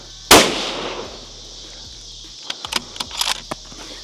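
A single sharp rifle gunshot during handload testing at a shooting range, loud and close with a quick decaying tail, followed by faint clicks and handling noises.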